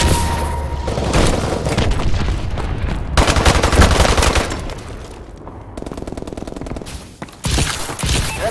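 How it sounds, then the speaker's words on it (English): Missile strike explosions and rapid gunfire in Call of Duty Advanced Warfare online play, with dense, loud booms and bursts running nearly continuously, briefly thinning out before another heavy barrage. "Enemy missile strikes."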